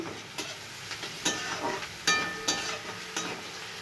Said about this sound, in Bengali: আমি একটু জিরে ফোড়ন দিয়ে দিচ্ছি পেঁয়াজ ফোড়ন দিচ্ছি মধ্যে রসুন আদাটা দিয়ে দিচ্ছি